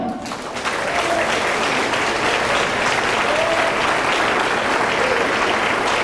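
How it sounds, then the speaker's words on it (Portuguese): Church congregation applauding during a sermon on finances, a steady, loud wash of many hands clapping that holds evenly for several seconds without speech. "Pode aplaudir o Senhor?"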